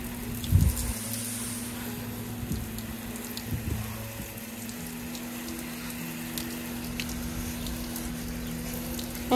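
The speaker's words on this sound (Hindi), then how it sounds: "गुलाब को भी ना समय अनुसार पानी देना बहुत ज़रूरी है" Water pours and splashes while rose plants in a home garden are watered, a steady hissing flow with a few louder splashes near the start, and no speech.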